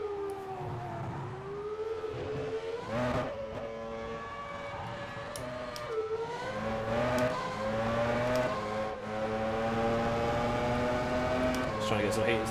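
A 1996 Benetton Formula One car sits in the Interlagos pit garage in rFactor 2, its engine whining through repeated revs that rise and fall, with someone talking faintly underneath.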